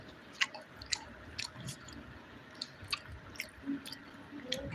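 Close, wet chewing of fried okra with soft crunchy bites, several sharp clicks spaced irregularly over a low steady background, no talking.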